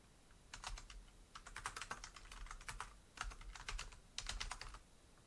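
Typing on a computer keyboard, with rapid clicking keystrokes in three or four bursts separated by short pauses, fairly close and alone, with no talking.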